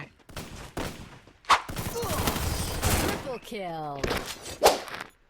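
Gunfire in the mobile shooter Free Fire during a 4v4 match, with several sharp shots and short bursts spread through the clip, fairly close and loud, mixed with game effects and a voice talking over the action.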